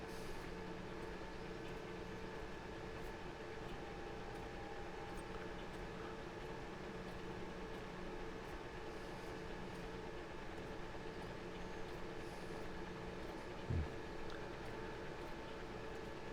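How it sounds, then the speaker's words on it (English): A tram in The Last Caretaker video game rolls along with a steady, continuous mechanical hum and low rumble, with a brief clunk near the end. "We'll take the tram across."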